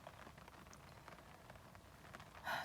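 Steady patter of rain falling outside, a soft continuous hiss with scattered drops, fairly faint and unbroken, then a brief louder surge at the very end; no one speaks.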